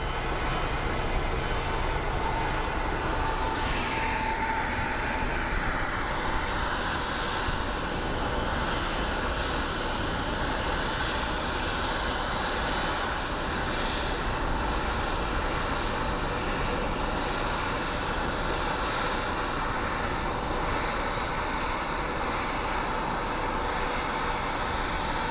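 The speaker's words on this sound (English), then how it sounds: "Little CRJ action for you guys." A Bombardier CRJ regional jet at Phoenix Sky Harbor airport gives off a steady, broad engine roar that holds evenly throughout, with a faint descending whine early on and no talking.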